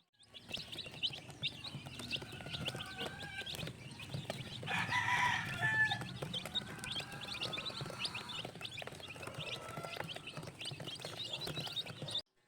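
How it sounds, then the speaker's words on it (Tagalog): Newly hatched chicks in a box pecking at feed, with dense, continuous peeping and chirping and some fowl clucking throughout, fairly close and without speech. "Nakakatuwa ang mga sisiw at matatakaw na agad kumain."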